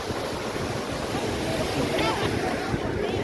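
The Mai river rushes steadily near a footbridge at a riverside fair, a constant broad wash of flowing water mixed with wind buffeting, with faint voices underneath.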